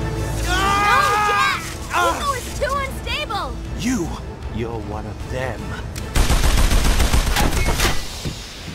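In the PS2 game Jak and Daxter: The Lost Frontier, pirate gunfire erupts as a loud, dense rattle of rapid shots lasting a few seconds, following a stretch of animated character dialogue.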